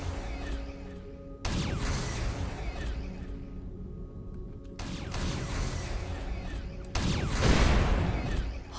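Ship cannons firing in the space game Avorion, three heavy blasts landing about five seconds apart, each a loud broadband burst that trails off into ringing mechanical rumble over a steady low hum.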